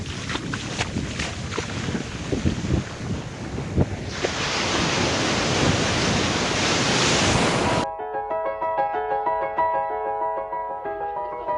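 Ocean waves wash ashore at Lucky Bay beach, a broad continuous surf roar mixed with wind buffeting the microphone, before music takes over near the end.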